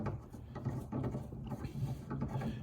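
An old stubby antenna is twisted off a 2021 Ford Bronco, giving close, ratcheting clicks and grinding rubs in short uneven bursts with no talking.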